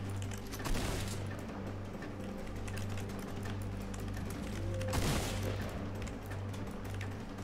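Rapid automatic weapon fire in the video game Fortnite crackles in a dense, continuous stream at moderate loudness, with a brief surge near the start and another partway through over a steady low hum.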